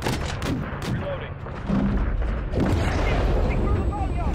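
Call of Duty: Modern Warfare 3 gunship fire support brings booming explosions and gunfire in a dense battle soundscape, with radio chatter and voices mixed in.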